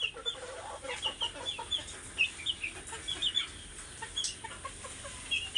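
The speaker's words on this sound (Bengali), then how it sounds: "মোরগ মুরগি।" Roosters and hens, including a Silver Cochin, cluck in a backyard coop. Their short, repeated clucks sound at a moderate distance over a steady ambient hiss, with no talking.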